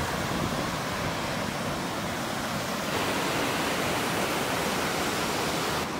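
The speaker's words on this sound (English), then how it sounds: "I'm gonna try to go down there and get a shot of the waterfall." Steady, dense roar of a waterfall in West Virginia, a broad unbroken rush of falling water heard close and loud with no voices.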